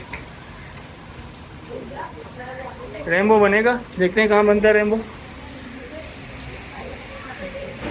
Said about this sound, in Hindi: यहाँ पे हो रही है ज़बरदस्त बारिश